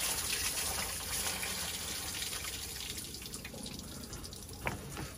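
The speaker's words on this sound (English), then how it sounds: "we're going to press this button as we're emptying. You can watch it come out faster" Liquid waste gushes steadily from a caravan cassette toilet being emptied at a disposal point, a continuous splashing pour with a brief louder splash near the end, no voices.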